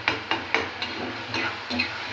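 Onion and tomato sauté in a pan with salt and turmeric for a prawn masala, soft frying sizzle broken by several sharp scraping stir strokes at a quick, uneven rhythm, close and fairly quiet.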